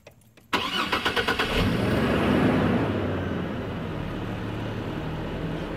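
A truck engine, just repaired with a new VV2 solenoid, cranks with a rapid chugging starter rhythm, catches loudly, then settles into a steady, even idle, close and clear with no voices.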